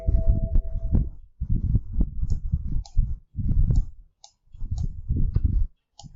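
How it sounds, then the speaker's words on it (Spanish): Computer mouse clicks while working in a spreadsheet: a run of small, sharp ticks spaced irregularly over several seconds, close and fairly crisp above a low, muffled rumble. "Le damos clic."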